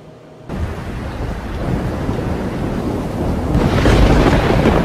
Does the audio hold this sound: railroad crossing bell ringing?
no